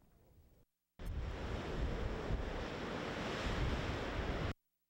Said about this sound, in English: Wind is an almost everyday occurrence in the grassland areas of southern Alberta.